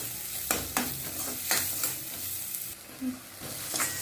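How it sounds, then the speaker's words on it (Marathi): A spoon stirs red chilli powder, salt and spices in a frying pan for dhaba-style palak paneer, with repeated scraping strokes over a soft sizzle, close and moderately loud. "सर्व हलवून घेऊ।"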